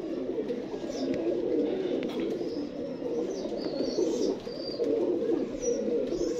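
Pigeons coo in low, soft, continuous warbles close by, layered over one another with faint chirps above, and no talking.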